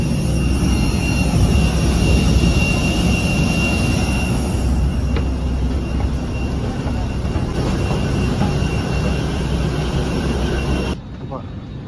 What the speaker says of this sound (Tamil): இப்போ ஃப்ளைட்டுக்குள்ளே என்ட்ரா போகிறோம்.